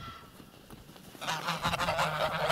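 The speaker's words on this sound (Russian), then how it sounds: "Гуси, гуси, га-га-га." Several geese honk loudly and close by, a burst of overlapping calls that starts partway through and keeps going to the end, with quieter outdoor background before it.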